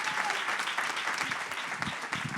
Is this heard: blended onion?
no